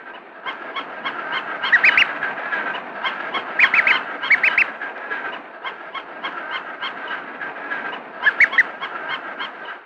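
Imprinted duckling peeping steadily and contentedly while following a toy it treats as a parent, a continuous stream of high chirps with louder bursts of rapid peeps, close and clear.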